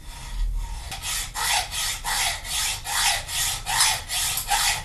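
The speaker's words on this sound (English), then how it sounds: "now cutting off this one, and I could have done this with slitting saw, but I have such bad experiences of those, so that I do it by a hacksaw." Hacksaw cutting through a part for a paper crafting press: close, loud, even back-and-forth strokes, about two per second, each a rasping sweep, continuing steadily without speech.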